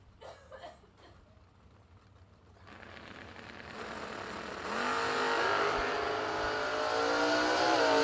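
Race cars at a drag racing event, including a Mustang, with engines revving and accelerating in a roar that builds steadily louder and stays strong to the end.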